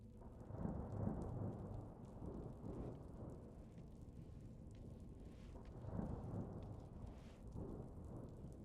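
Rain and rolling thunder in the video game Flicker of Hope, a steady wash of rainfall with low rumbles swelling near the start and again toward the end, no voices.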